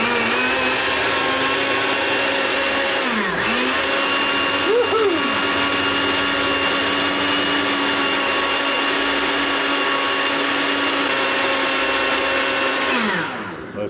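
An electric mixer blends peanut butter and keto brown sugar into a sauce for low-carb Chinese-style noodles. The motor hums loudly and steadily for about fourteen seconds, its pitch dipping briefly a few times.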